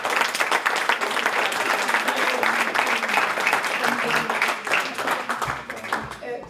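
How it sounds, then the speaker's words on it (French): An audience at a health hackathon claps enthusiastically in a dense, continuous burst of applause that tapers off near the end. "Et on applaudit bien fort."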